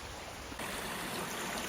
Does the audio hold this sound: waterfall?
yes